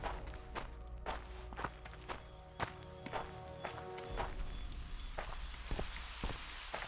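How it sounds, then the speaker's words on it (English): Steady rain pattering on surfaces in The Witcher 2 video game, with scattered sharp drop or step-like clicks over a constant wash of rainfall. "Oh, bloody rain."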